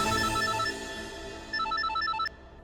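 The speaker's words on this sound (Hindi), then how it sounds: "देखो किसका फोन आ रहा है।" A telephone rings indoors with repeated bright electronic trills, two bursts of ringing in quick succession, heard alone without talk.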